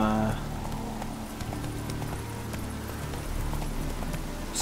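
The horse Roach gallops in The Witcher 3: Wild Hunt, a steady run of soft clip-clopping hoofbeats at moderate volume over low game ambience and music.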